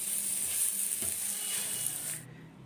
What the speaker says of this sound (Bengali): গ্যাসের আঁচ কমিয়ে 2-3 মিনিট আমি এটাকে ফ্রাই করে নেব